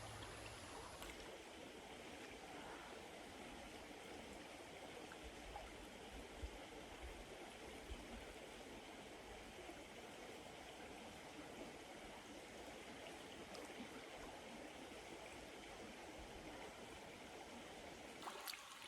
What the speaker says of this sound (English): I'm just lying there in the river.